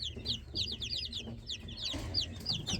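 Several hens cluck and chatter nearby in a brooder in quick, overlapping bursts, with a low background hum throughout.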